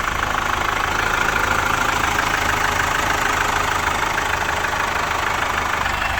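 A 2012 Chevrolet Captiva FL diesel idles steadily right after starting, following glow plug replacement, with a constant close engine drone and a rattly knock running through the whole stretch, no voices.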